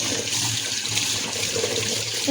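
Tap water runs continuously while utensils are washed in a kitchen, a close, steady splashing stream with no voices.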